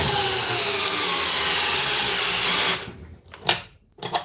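A Parkside cordless drill with a 20 volt, 4 amp battery drives a screw at speed 1, a steady close whirring grind that holds for nearly three seconds and then cuts off, followed by a few short clicks and taps.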